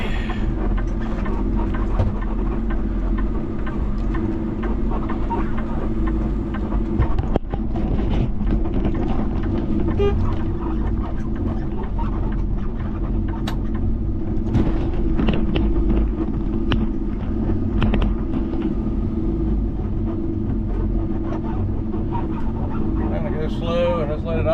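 A heavy haul truck idles slowly over humps and bumps on a rain-soaked road, its deep engine rumble steady and loud, with people talking over it throughout.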